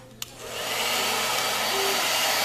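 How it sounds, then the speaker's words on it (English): Blow dryer on the warm setting drying a person's hair during a haircut, a steady close whooshing hum that starts with a small click and holds at full strength without pause. "what I'm gonna do now is I'm gonna take this blow dryer."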